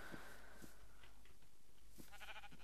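Sheep in the Minecraft video game bleat several times in short, scattered calls over a faint steady background hum. The bleats are fairly quiet and come close together near the start and end.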